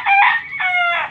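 A Jersey Giant rooster at a backyard farm gives one loud, close crow in two strained, harmonic-rich phrases.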